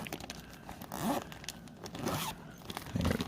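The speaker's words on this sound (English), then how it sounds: "Zipper." The zipper on a cotton pillow's packaging is pulled open in a few short, scratchy bursts, close by and fairly quiet, with some crinkling of packaging.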